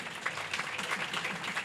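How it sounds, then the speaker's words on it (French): Audience applause at a hospital inauguration in Ouakam, Senegal, a fairly faint, brief burst of scattered clapping that carries on evenly without speech. "Je voudrais quand même qu'on l'applaudisse."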